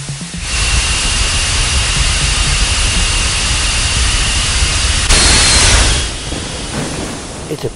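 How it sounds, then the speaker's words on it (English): A rotating detonation engine, a new engine type built for hypersonic flight, runs as a loud, steady broadband roar and hiss, with a harsher, brighter surge about two-thirds of the way through before it settles back. "It apparently uses a new type of engine called a rotating detonation engine."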